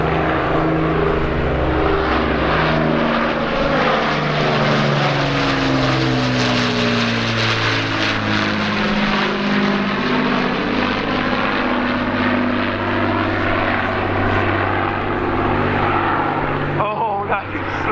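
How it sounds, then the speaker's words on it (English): Avro Lancaster bomber of the Battle of Britain Memorial Flight passing over an airshow, its four piston engines giving a loud, sustained droning roar with shifting pitch as it flies by; a voice is heard over it. "we are honoured to greet the Battle of Britain Flight Lancaster"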